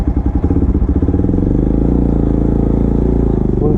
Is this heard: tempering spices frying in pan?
no